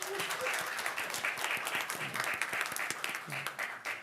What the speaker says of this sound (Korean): 우리 두 사람 위해서 박수 한번 쳐주세요